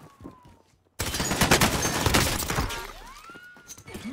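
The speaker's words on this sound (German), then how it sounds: "Werde beschossen." Incoming gunfire in a first-person video game shooter, a sudden loud burst of rapid overlapping shots and impacts that rings on for a couple of seconds and then trails off.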